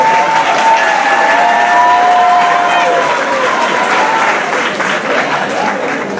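Loud, sustained applause from a large audience at a beauty pageant, dense and continuous, with some cheering mixed in.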